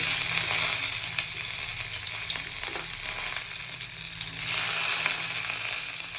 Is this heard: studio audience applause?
no